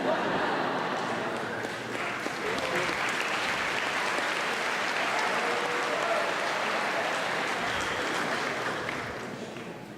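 A graduation crowd applauds steadily for the full stretch, a dense, loud wash of many hands clapping at once that holds evenly and tapers slightly at the end, with no voices standing out.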